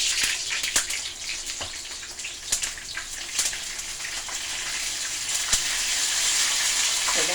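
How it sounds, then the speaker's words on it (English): Tap water runs and splashes over frozen fish as ice is washed off, a steady close gush with scattered sharp knocks and clatters, loud and without speech. "I wash out the ice"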